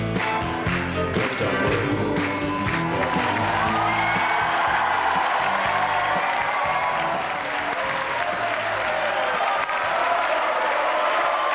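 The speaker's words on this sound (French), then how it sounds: "On l'applaudit comme il se doit." A television studio audience applauding a singer, sustained dense clapping with some cheers and whoops, loud and continuous throughout.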